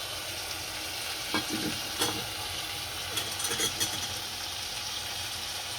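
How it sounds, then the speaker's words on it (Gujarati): Cluster beans (guvar) sizzle in hot oil in a pressure-cooker pan, a steady hiss with a few clinks of a spoon stirring them. "આપણો ગુવાર તેલમાં કકડી ગયો છે"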